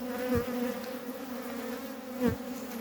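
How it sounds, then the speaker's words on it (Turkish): A wasp attacking near a beehive buzzes steadily close by, its drone rising sharply twice in brief, loud swoops. "Kılıç arısı saldırıyor."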